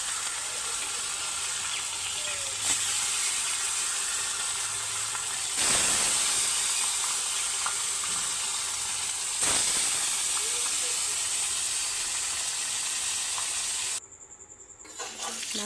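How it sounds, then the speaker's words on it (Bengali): Fish frying in hot oil in a wok gives a steady, close hiss and sizzle that runs throughout, with a few brief louder bursts and a quieter stretch near the end. "কড়াইয়ে তেল গরম হয়ে গেছে, মাছগুলো একটা একটা করে ছেড়ে দেব।"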